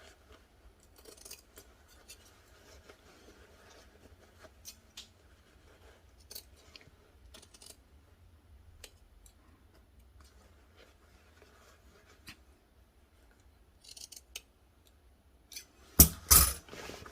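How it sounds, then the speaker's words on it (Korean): Scissors snip fabric while a pocket opening is cut for a coat or jacket, giving soft, scattered close cuts and rustles over near silence, with a louder burst of handling near the end. "끝까지 한 1mm 정도만 남긴다 생각하시고 잘라 두셔야 되겠죠."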